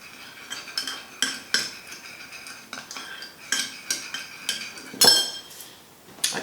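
A metal utensil stirs dragon's blood ink in a dish, giving a quiet series of irregular clinks and scrapes. The last scrape near the end is sharper than the rest.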